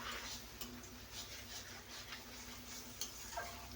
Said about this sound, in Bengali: চিংড়ি মাছটা একটু ভাজা হবে, এর মধ্যেই ভাজা হবে